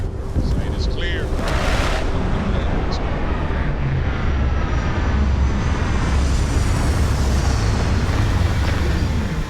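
A spaceship lands in the video game Starfield, a loud, steady roar of engine and rushing air that stays dense and continuous throughout, with faint tonal whines near the start.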